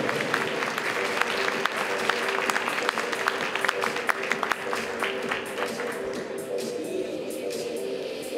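Audience at an Icelandic horse show applauding riders as they enter, dense sustained clapping that thins out toward the end.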